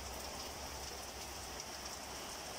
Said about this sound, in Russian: Вот такой у нас дождь